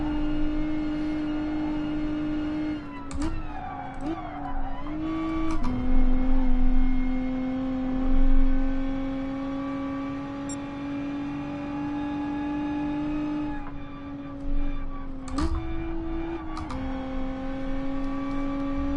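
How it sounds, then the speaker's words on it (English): Lotus race car in Gran Turismo Sport on the Nordschleife, a steady droning engine note held at near-constant pitch with brief shifts and dips, sounding like it is chugging along without much acceleration. "Oh man, this car is just chugging along here."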